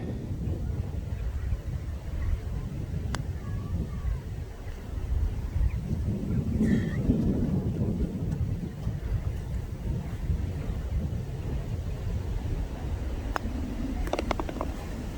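Wind blows across an open golf course with a constant, rough buffeting rumble against the microphone, swelling midway. A few faint clicks come near the end.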